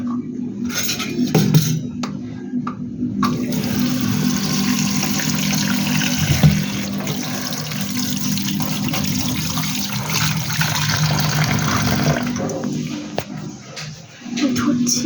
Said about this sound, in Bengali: এখন এই যে ধোবো এখন সব ধুচ্ছি